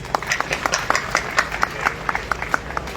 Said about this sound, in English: A big round of applause to all the organizing committees.